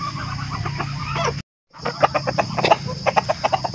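Farm chickens cluck and chatter nearby in a lively series of short, rhythmic calls, broken by a brief moment of silence before the clucking resumes.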